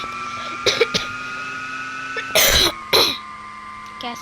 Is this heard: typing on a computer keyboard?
no